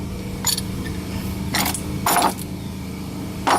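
A clamp is unscrewed and lifted off a brake caliper on a 2006-2012 Nissan Altima, producing a few brief metallic clinks and rattles over a steady low hum, close by.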